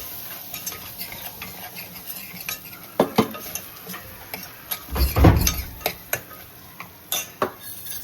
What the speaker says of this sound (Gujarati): મિક્સ કરી લો